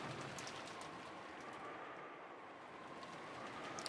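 Steady rain falls as a sound effect in the visual novel game Umineko When They Cry, a dense, even hiss of downpour with occasional droplet ticks and no voices.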